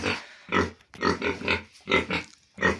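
Sows and piglets grunting in a large pigsty, a series of loud, close, rhythmic bursts separated by short gaps, with no talk over them.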